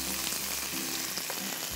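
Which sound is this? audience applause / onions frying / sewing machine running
onions frying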